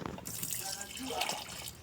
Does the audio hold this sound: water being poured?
yes